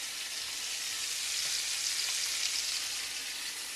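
Meat browning in a pot gives a steady, dense sizzle that hisses evenly throughout without any pauses.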